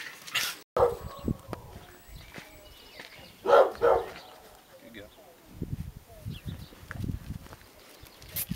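A dog barks a few times at moderate distance amid people talking, with birds faintly cooing in the background.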